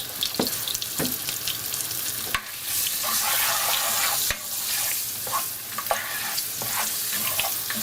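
Sambal goreng tempeh sizzles in a pan after shrimp paste powder goes in, with a constant frying hiss, a couple of sharp utensil knocks and scraping stirs, close up and without speech.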